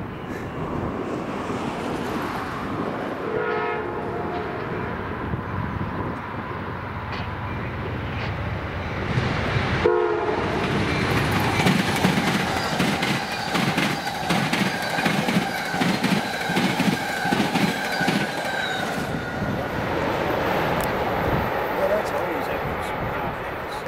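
Northbound Amtrak P092 passenger train passing trackside on a windy day, a steady rumble swelling midway with rhythmic wheel clatter, blended with wind and surf-like noise and occasional nearby voices.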